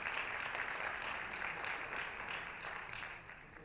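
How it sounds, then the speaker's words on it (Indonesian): Applause from an expo audience greets a guest on stage, a soft, diffuse patter of many hands heard from a distance that stays steady and then fades slightly toward the end, with no talking over it. "Kita berikan tepuk tangan dan sambutan kepada Mas Kaisang Pangarep"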